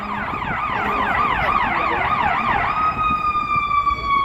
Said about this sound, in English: It's a fire engine.